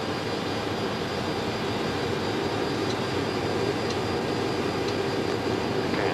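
An RAF VC-10 jet during in-flight refueling trials, a steady loud roar of jet engines heard from inside or near the aircraft, continuous and unbroken, with no voices.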